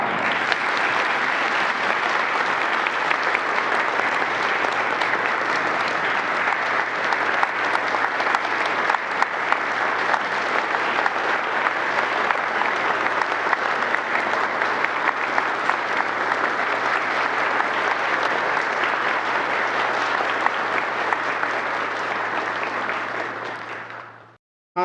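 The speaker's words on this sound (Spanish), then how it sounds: "Todos se pusieron de pie para aplaudirle." Sustained, loud applause from a standing audience after a speech by President López Obrador at a labor rally in Mexico, dense clapping holding steady for about 24 seconds before cutting off abruptly.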